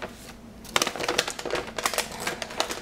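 A knife cuts through a bar of handmade cold process soap, giving a run of close, crisp scraping and crunching strokes in an irregular rhythm after a short quiet start.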